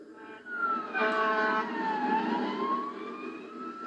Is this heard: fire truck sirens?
yes